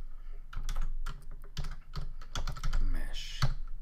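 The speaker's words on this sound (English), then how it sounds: "You can just type MH." Rapid clattering keystrokes on a computer keyboard, close and fairly loud, in quick irregular bursts with short pauses between them.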